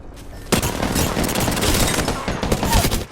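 Rapid bursts of gunfire from a first-person shooter battle in Apex Legends, loud and dense, sustained for about two and a half seconds with a few sharper cracks near the end and no voices.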